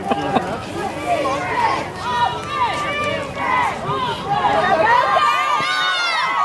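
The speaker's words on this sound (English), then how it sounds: "Crowd's erupting." Loud crowd at a high school football game between Monacan and Bird roars and cheers steadily through a running play, with dense overlapping voices swelling near the end.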